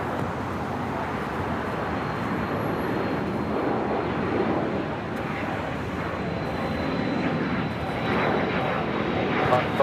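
An airliner rolls for takeoff on runway 25 right at LAX, its engines a loud, steady broadband roar that swells slightly toward the end, with no pauses.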